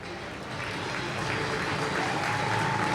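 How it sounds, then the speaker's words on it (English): Speedway fans at Poole Pirates' home track on the south coast applaud a heat win, a broad swell of clapping and crowd noise that builds slightly louder, with a voice audible over it. "Rapturous applause there,"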